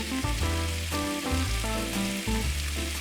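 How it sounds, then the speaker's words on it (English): Garlic fries in a pan with a steady, close sizzle while it is stirred, under a loud background of tonal music that dominates throughout. "And now the garlic, just a quick stir."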